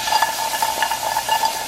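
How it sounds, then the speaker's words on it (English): Berries heat in a non-stick pan, giving a soft steady sizzle with faint steamy hiss and light stirring scrapes, close and fairly quiet, no talk. "we're gonna heat up the berries in the pan"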